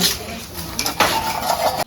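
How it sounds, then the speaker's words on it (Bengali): Dishes, pots and utensils being scrubbed and washed in a household kitchen, giving a short burst of metallic clinks and scraping at close range with light background noise. "মানে আমার মা বাসন মাজছে।"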